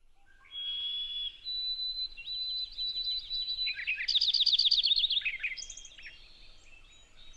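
Whistled and warbled bird song from a boldly patterned, increasingly uncommon central Texas bird: a clear sustained note, then rising phrases and a rapid trilled burst, loud and close with no talk.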